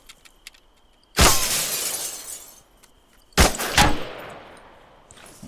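Two loud rifle-shot impacts strike a car's bulletproof glass in ArmA 3, each a sharp crack followed by a shattering, ringing tail that fades over about a second; the second hit is layered with a quick follow-up burst.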